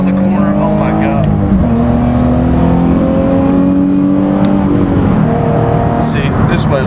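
A car accelerates and peels around a corner at night at Myrtle Beach, its engine rising and falling in loud sustained tones, heard from inside the car with voices talking over it.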